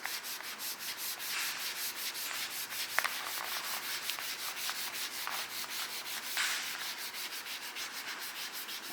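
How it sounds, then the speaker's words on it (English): A squeegee working vinyl wrap down onto a primed car panel, making steady rhythmic rubbing and scraping strokes, close and fairly quiet, with no voices. "I'm just going to take a squeegee, take the wrap,"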